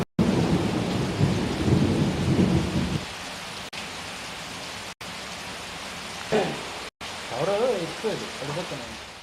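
Heavy rain with thunder during a low-pressure spell, a loud rumbling downpour for about three seconds that drops to quieter steady rain, with brief voices near the end.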